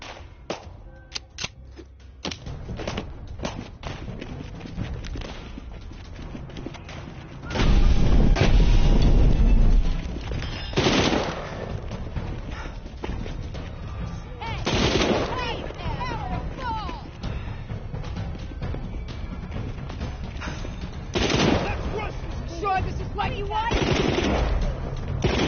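Heavy gunfire from an AC-130 gunship rains down in the Walking Dead Saints & Sinners video game, loud booming bursts and rapid crackling shots recurring through the scene while a person talks.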